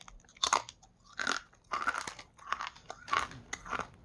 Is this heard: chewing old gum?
yes